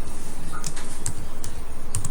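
Rapid, steady typing on a computer keyboard, close and crisp, keys clattering in a quick even rhythm for a couple of seconds with no voices.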